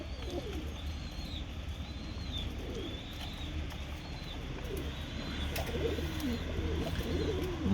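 Pigeons coo repeatedly on a terrace, soft rolling calls returning every second or so at close range over a steady low outdoor rumble, with faint chirps mixed in.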